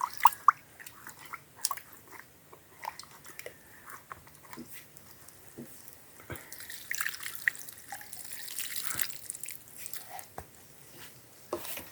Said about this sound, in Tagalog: Lagyan natin ng tubig. Hugasan natin.